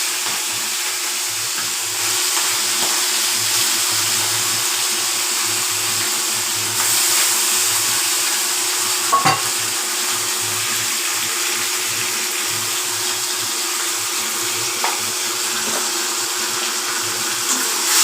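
Shrimp and grated ginger fry in oil for a Bengali chingri chalkumro ghonto, giving a steady, broad hiss that stays even throughout, with one brief sharp crackle near the middle and no talking.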